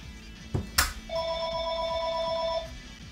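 A telephone ringing nearby, with a single clear electronic ring tone of about one and a half seconds that follows a couple of brief knocks.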